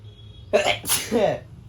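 A single sharp sneeze up close from someone with a cold, with a quick indrawn breath before the loud burst.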